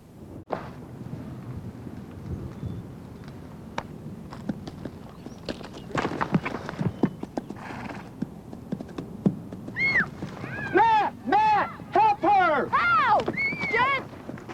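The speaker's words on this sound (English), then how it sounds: "All of a sudden, Jenna's horse spooked" Hooves clip-clop over wind and movement noise, then a horse whinnies repeatedly, loud and near, in high wavering neighs.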